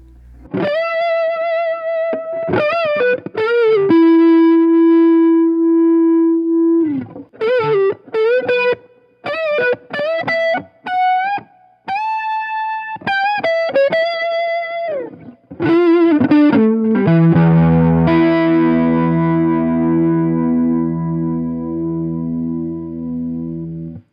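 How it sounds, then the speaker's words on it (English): Electric guitar played through an overdrive pedal with chorus added: clean-edged sustained single notes and short phrases, ending in a shimmering, wavering held chord, loud and close with no talk. "now I'll add in the chorus pedal so you can hear what that would sound like just on its own with the overdrive"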